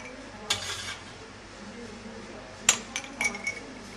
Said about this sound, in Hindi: अब इसमें बर्फ़ डालकर आप सर्व कर सकते हैं।